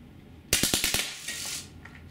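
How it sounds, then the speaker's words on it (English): Drozd Blackbird BB machine gun running on HPA fires a rapid burst of about six sharp, snappy shots, loud and close, trailed by a brief hissing decay and no talk. "right now I'll be shooting in 6-round bursts, guys."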